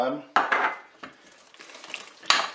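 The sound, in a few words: adding melted butter to cake batter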